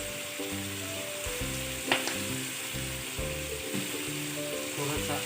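Chicken steak sautés in a pan, a continuous sizzle and frying hiss with occasional utensil clinks and stirring, while a steady tonal hum sits underneath; no talking.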